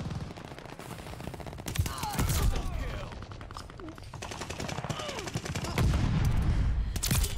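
Gunfire from a new DLC one-shot-kill weapon in the Call of Duty Vanguard video game: sharp shots crack out again and again in quick bursts over busy in-game noise.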